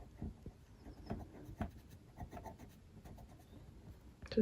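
A watercolour pencil pressed hard on paper, colouring in dark orange: close, scratchy strokes in an irregular rhythm of short rubs and taps, fairly quiet throughout.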